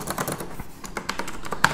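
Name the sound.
Logitech G610 keyboard typing, Cherry MX Blue clicky switches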